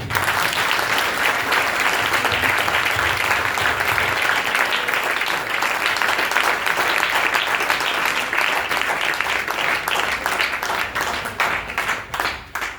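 A congregation at a Christian gathering about the birth of Jesus bursts into sustained, loud applause that lasts over ten seconds, then thins into scattered final claps.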